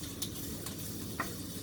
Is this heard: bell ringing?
no